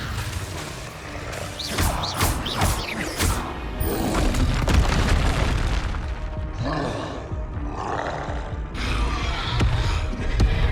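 Repeated Confringo spell blasts in Hogwarts Legacy combat come as a series of loud booming impacts and crashes, clustered early and then recurring amid rumbling action noise.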